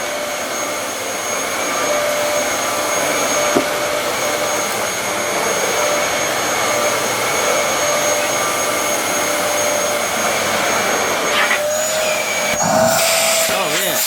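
A Dyson DC07 Origin All Floors upright vacuum cleaner runs steadily with strong suction, a loud continuous whine held throughout, with brief shifts in pitch near the end.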